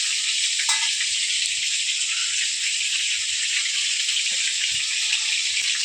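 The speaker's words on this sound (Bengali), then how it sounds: "এখানে আমার বর দেখো মাছ ভাজছে। এটা হচ্ছে শোল মাছ" Snakehead fish fries in a pan with a steady, even, hissing sizzle that holds at constant loudness, broken only by a few faint clinks.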